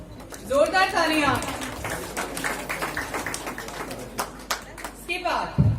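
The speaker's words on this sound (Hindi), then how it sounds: "जोरदार तालियां।" Audience clapping at an award ceremony, a burst of applause running through most of the clip with a voice speaking over its start and more talk near the end.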